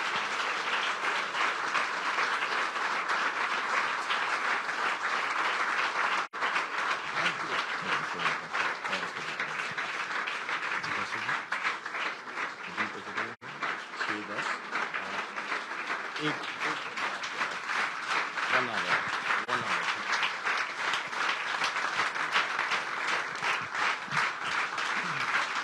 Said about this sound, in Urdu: تالیاں بجتی رہیں